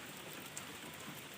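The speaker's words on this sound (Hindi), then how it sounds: "आज हमारे गांव में बारिश पड़ रहा है" Light, slow rain falling steadily in a village, a faint even hiss of drops on surfaces with no voices, quiet and uniform throughout.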